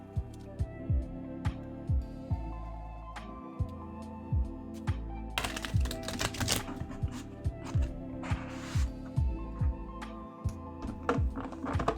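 Tarot cards are shuffled close up, with quick riffling bursts and soft tapping and shuffling sounds repeating through the clip, no voices.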